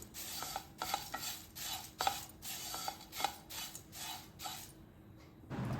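Flattened rice (aval) being roasted in a pan on low heat for laddu, with repeated scraping and stirring strokes of a spoon against the pan in a steady rhythm, close and moderately quiet, with no talking.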